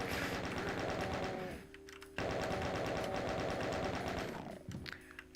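Demons trade rapid gunfire in the video game Doom: dense, mechanical bursts of shots that cut off, resume after a short gap, then trail away near the end.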